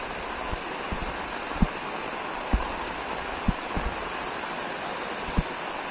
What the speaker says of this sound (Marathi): पाऊस जोरात लागतोय